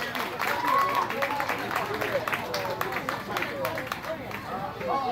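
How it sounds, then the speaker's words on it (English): Audience at an Asian heritage cultural month event in Philadelphia giving a round of applause, dense clapping mixed with crowd chatter and voices, lively and fairly close. "let's give them a more round of applause"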